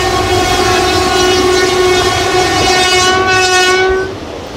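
Train horn blaring loud and sustained on the Guntur to Dhone broad gauge railway in Andhra Pradesh, a steady multi-tone blast held for about four seconds before fading, with no talk.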